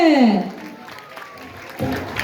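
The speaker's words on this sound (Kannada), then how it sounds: "ಬರ್ಲಿ ಜೋರ ಚಪ್ಪಾಳೆ" An audience at a Gruhashobha entertainment event breaks into applause after a tongue-twister game, brief and fairly close. A loud voice sweeps over the start and talk resumes near the end.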